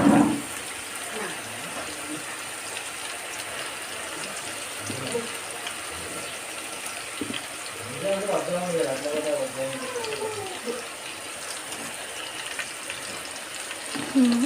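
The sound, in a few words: fish frying in a pan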